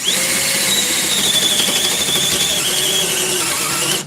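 A Milwaukee compact drill bores into a surface, giving a steady, close, loud whine with a high squeal that rises and holds for about four seconds without a break.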